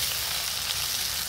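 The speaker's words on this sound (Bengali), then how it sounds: "পেঁয়াজ কুচি দিয়ে দিলাম।" Chopped onion hits hot oil in a wok (karahi) after the tempering spices have burnt, for a mutton curry, with a steady, bright, close sizzle that runs on without a break.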